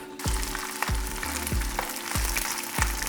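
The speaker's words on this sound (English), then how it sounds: "While that is cooking, I'm going to start to fry the beef." Pieces of beef fry in hot oil in a frying pan for a Mongolian beef dish, giving a loud, steady sizzle with a regular low clack of the pan or utensil about every half second.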